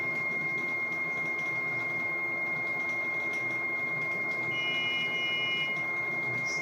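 An Elegoo Saturn 4 resin 3D printer running its self-test: a faint, steady high whine over a low hum, with a couple of short electronic beeps near the end.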